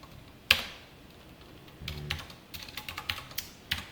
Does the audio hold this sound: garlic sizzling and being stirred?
no